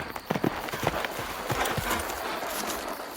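Horse hooves clip-clop in an irregular gait during a midnight ride in the Miss Clue: Trials of Salem video game, with scattered soft thuds over a steady ambient backdrop.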